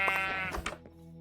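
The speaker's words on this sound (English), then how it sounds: "There's some sheep here, which is nice." Sheep bleating in the video game Minecraft Java Edition, a few short nasal bleats close by, the loudest near the start and middle, with faint background game ambience and no talking.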